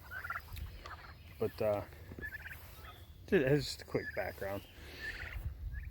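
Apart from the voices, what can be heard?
turkeys gobbling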